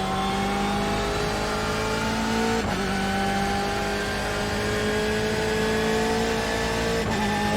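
A BMW M8 race car engine in the iRacing sim at Donington, a loud steady high-pitched drone with rising harmonic sweeps as it accelerates, briefly dipping twice for gear changes.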